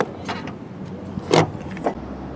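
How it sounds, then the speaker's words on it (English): The trunk of a 2016 Volkswagen Beetle Convertible R-Line is opened: a few brief mechanical clicks and a latch clunk over a quiet background hum. "If you want to open the trunk to see what's there"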